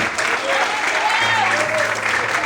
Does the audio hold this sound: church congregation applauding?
yes